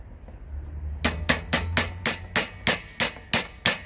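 A hammer taps old timber out of the eye of an axe head, about a dozen sharp metallic knocks in a steady rhythm, loud and close with nothing else heard.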